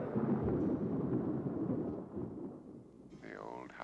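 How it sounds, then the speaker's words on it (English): Deep thunder rumbles through a storm as an old house crumbles, loud and rolling for about two seconds before easing off, with a fainter voice-like tone rising near the end. "Perhaps this storm will finish it."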